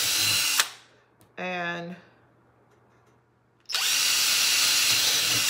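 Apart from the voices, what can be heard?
power drill drilling into wood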